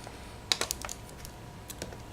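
A few quick clicks from a computer keyboard, soft and close, in a small flurry and then scattered single taps against a quiet room background.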